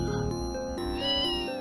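A short cat meow in the old adventure video game Call of Cthulhu: Shadow of the Comet, a single rising cry over a quiet tonal game background.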